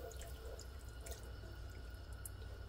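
Beef broth trickles and drips into a pan of hamburger steak gravy with onions as it is stirred, a very faint, steady liquid patter with a few light clinks, no talk.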